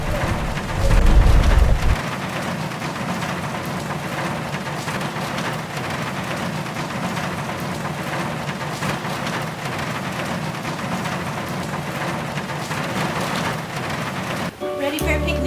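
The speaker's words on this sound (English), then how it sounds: "Starting to rain." Steady rain falls outdoors on Maui, a dense even patter with a brief low gust of wind at the start and muffled voices faintly underneath.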